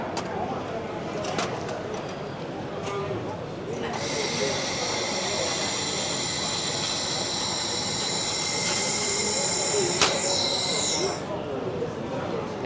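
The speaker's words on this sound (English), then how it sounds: "now we are using the laser torch to scan it and clean the weld bead" A laser torch of a 4-in-1 laser welding machine cleaning an oxidized weld bead, giving a steady bright hiss that starts abruptly and holds for several seconds before cutting off, over a background murmur.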